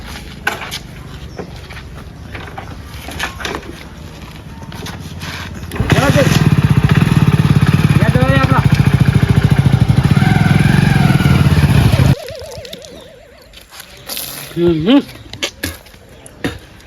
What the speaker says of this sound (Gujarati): બાઈક ચાલુ કરો